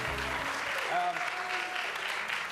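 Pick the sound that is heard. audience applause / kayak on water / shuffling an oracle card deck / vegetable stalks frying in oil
audience applause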